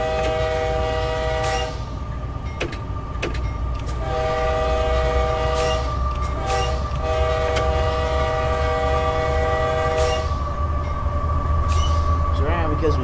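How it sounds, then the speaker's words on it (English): A freight train in a CPKC-on-Union-Pacific railroad simulator game slows down, its steady loud rumble broken by repeated blasts of the train horn, with brief clicks and talk nearby. "I'll start using dynamic braking to start slowing the train down"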